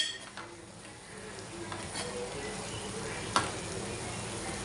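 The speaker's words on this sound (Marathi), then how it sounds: "थोडंसं पाणी घातलं की आपल्याला असं ढवळून घ्यायचं मंद आचेवर भेंडी आपल्याला शिजत ठेवायची आहे" Okra with a splash of water cooking on a low flame, stirred with a spoon in the pan, giving a soft, steady sizzle with a few scrapes and one sharper clink near the end.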